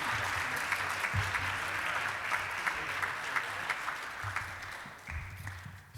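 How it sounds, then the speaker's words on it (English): An audience at a Rotary club meeting applauds, a sustained round of clapping from many hands in a room that holds steady and then tapers off toward the end. "So let's give him another round of applause."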